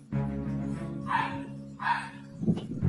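A dog barks twice in quick succession over a steady low hum, then gives a short yip near the end; the barks sound moderately close.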